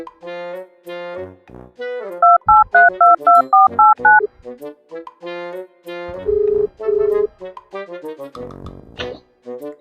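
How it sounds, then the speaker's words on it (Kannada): A phone being dialed, a loud sequence of electronic keypad tones, first a quick run of short beeps, then several longer steady tones with pauses between them. "ದೋಸ್ತಗ ಹೋಗಿ ಫೋನ್ ಗಪ್ಪ"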